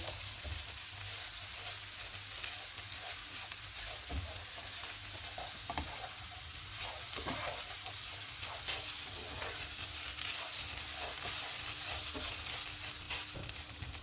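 Grated potatoes for hash browns fry in hot butter over medium-high heat, making a continuous close sizzle with occasional stirring scrapes and pops, and no voices.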